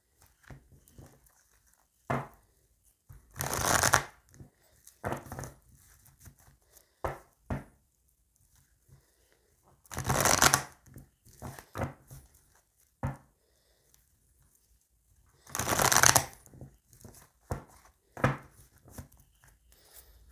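Tarot cards shuffled by hand for a reading, heard as three longer bursts of riffling spaced apart, with scattered soft taps and flicks of cards in between, close and alone.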